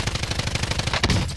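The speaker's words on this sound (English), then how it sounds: "We're opening fire." Rapid automatic gunfire in a multiplayer shooter game, a quick rattling burst of evenly spaced shots with a louder crack near the end, loud and close with no talk.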